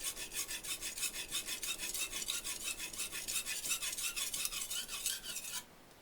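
A knife blade rasps rhythmically against a brick, a steady series of scraping strokes back and forth, close and fairly quiet, stopping abruptly near the end with no voice.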